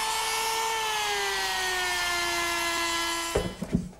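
Power router fitted with an ogee bit shaping a decorative edge on wood, a steady high whine droning loudly for several seconds before cutting off into a few clunks.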